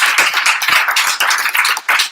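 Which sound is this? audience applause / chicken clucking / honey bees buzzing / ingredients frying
audience applause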